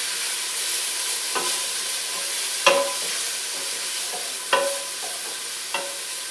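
Turkey curry rice soup being stirred in a pot, a bubbling simmer under a few distinct clinks and scrapes of a spoon against the metal at irregular intervals.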